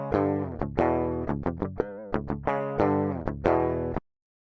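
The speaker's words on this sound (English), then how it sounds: "This is the sound of the dry DI." A dry, unprocessed electric guitar DI signal plays a short run of clean plucked notes, thin and bright with quick decays, ending in silence.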